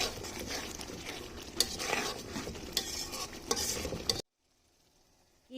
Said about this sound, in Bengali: খুব ভালোভাবে নেড়ে চেড়ে নিচ্ছি